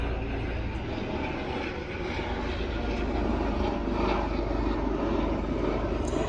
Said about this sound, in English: Sorry, I've got a plane going over.